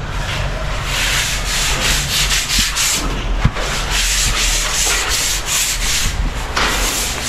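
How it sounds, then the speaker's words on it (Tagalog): Sandpaper rubs filler putty on a room wall in quick, repeated scratchy strokes, loud and close, continuing steadily with no voices. "Baka mamaya liha kayo ng liha hanggang sa wala rin silbi yung masilya ninyo."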